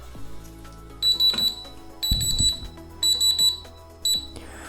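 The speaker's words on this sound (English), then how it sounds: "Timer for 10 minutes." A kitchen timer alarm beeps in four short bursts of rapid high electronic tones, each roughly half a second long with gaps between, over a faint room hum and a soft knock, used to time a gluten test strip.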